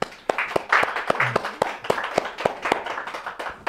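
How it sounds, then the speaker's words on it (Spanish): An audience at a closing event and raffle for a prayer pilgrimage gives a round of applause: sharp, distinct claps in a fairly steady rhythm, moderately loud, with some crowd murmur beneath. "Les vamos a dar un aplauso."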